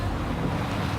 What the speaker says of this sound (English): we're getting hammered by the wind and the waves